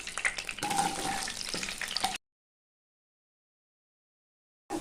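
Potato pieces frying in oil in a pan, a close crackling sizzle with stirring scrapes for about two seconds, followed by silence and a brief return at the end.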